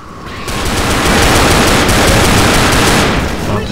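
Dense automatic gunfire from the video game Left 4 Dead rattles continuously and loudly for several seconds, dominating the mix with no talk over it.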